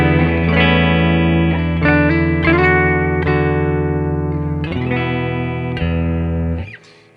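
Clean electric guitar played through a Xotic effects setup with no boost engaged: sustained, ringing chords and notes struck in sequence, loud and close, each one decaying briefly before the next, with no talk over them.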